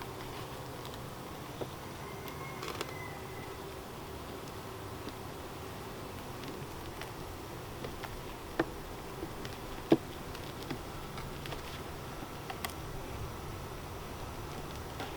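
Honeybees buzz in a low, steady hum around an open hive during an inspection, with faint ticks and small knocks from handling frames.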